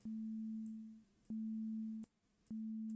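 Pure sine wave synth tone from live-coded music, a single steady low pitch repeating in long on-off pulses, three notes with short gaps and faint clicks at each edge.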